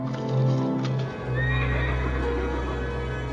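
A horse rescued from deep mountain snow gives a loud, close whinny, followed by a few shuffling hoof sounds, with no talk.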